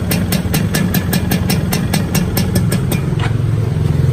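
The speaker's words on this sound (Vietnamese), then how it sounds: "Đây máy bao êm nha anh em. Quay sát một máy cho anh em nghe nha." A Suzuki Xipo 2000 motorcycle engine idles close up, a steady low throb with an even ticking rhythm of fast mechanical pulses running throughout, loud and alone.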